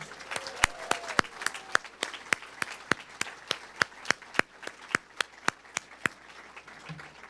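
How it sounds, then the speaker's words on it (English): At a physician assistant program graduation ceremony, a single pair of hands claps in a steady, even rhythm of about twenty sharp, close claps, fairly quiet and with no voices over them. "How about a round of applause?"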